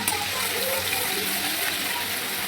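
Sauce and masala mixture sizzling in hot oil while mixed chowmein is cooked at home, a steady loud hiss and crackle filling the whole stretch without a pause.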